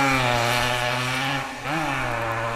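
A 1982 Yamaha IT dirt bike engine runs steadily and close up, a buzzing two-stroke drone that briefly dips in revs and then picks back up.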